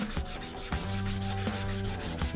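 Steel knife blade hand-sanded with 500-grit sandpaper, giving close, regular back-and-forth rasping strokes in an even rhythm throughout.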